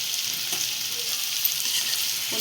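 Jackfruit biryani masala, spiced with coriander powder, turmeric, red chilli and black masala, stir-fried in a pan with a steady close sizzle and occasional scraping of the spoon throughout.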